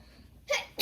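A single short, sharp sneeze bursts out close by against a quiet room, followed by the start of another breathy burst.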